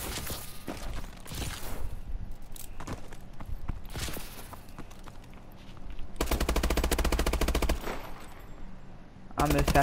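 Video game gunfire: rapid bursts of automatic shots crackle alongside scattered single reports and footstep-like clatter, loud and close, with a sustained rattling burst near the end.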